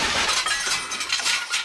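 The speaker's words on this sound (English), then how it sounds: "The sound of breaking furniture and shattering appliances signal his search has started." Furniture breaking and appliances shattering during a violent apartment search: a dense, continuous crash of splintering and breaking glass, loud and close, with no talk.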